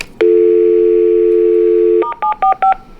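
A hotel room phone plays its voicemail tones: a long steady tone rings loud and close, then a quick run of five short beeps follows. No one speaks.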